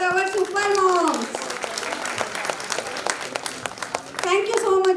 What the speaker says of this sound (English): A great round of applause for our super moms.